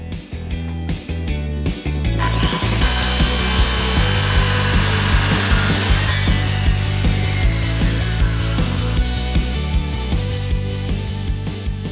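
A 240-volt Makita circular saw cuts through an ironbark railway sleeper with a loud, steady motor whine. A harsher, brighter burst of blade noise rises as it bites into the hardwood, then eases back to the running motor.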